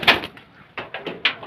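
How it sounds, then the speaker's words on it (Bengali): Pigeons flutter and shuffle eagerly for food in the morning after overnight rain, giving a quick run of close, soft wing flaps and scrapes with a faint coo-like note at the start. "কবুতর সকাল সকাল ছেড়ে দিলাম, সব খাওয়ার জন্য ছটফট করছে।"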